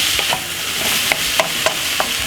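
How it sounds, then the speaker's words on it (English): Courgette spaghetti and vegetables are stir-fried in a pan: loud constant sizzling with a few sharp scrapes and clacks of stirring. "we're gonna add the Courgette spaghetti to it and stir fry everything together"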